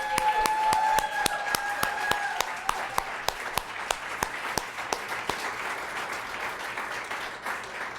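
Audience at a poetry reading event applauds the readers, a steady patter of many hands clapping with a few louder, distinct claps standing out; early on a sustained tonal hum fades away as the clapping continues.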